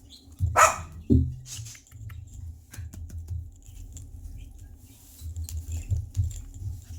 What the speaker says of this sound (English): And those are my dogs.